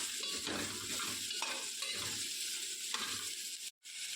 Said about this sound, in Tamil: ஆப்பிள் எல்லாத்தையும் நல்லா போட்டு வெங்காயம் மிளகாய் போட்டு தாளிச்சுட்ருக்கேன்.